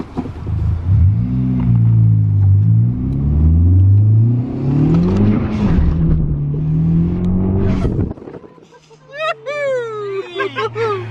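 A Honda Civic Type R with an Invidia exhaust roars loudly as it accelerates through rising revs, then drops away as the car eases off and the engine settles.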